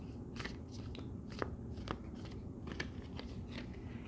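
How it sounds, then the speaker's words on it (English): A deck of playing cards is shuffled in a quiet room, giving a run of soft, papery riffling clicks and flicks in an uneven rhythm, close by and fairly faint, with no talking. "that's one way of shuffling"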